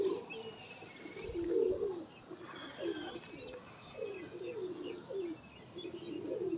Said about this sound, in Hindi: पूरा कबूतर ऐसे पकड़े।